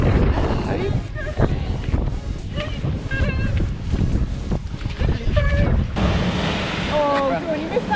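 Sea waves break along the coast off Ventnor on the Isle of Wight, a steady loud surf roar with wind buffeting the microphone and a few high calls over it.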